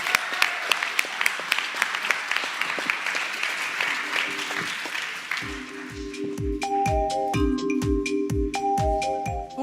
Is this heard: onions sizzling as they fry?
no